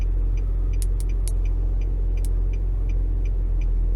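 Engine of a 2014 Nissan Maxima idling nearby, a steady low rumble with faint intermittent ticking and small clicks above it, no talk.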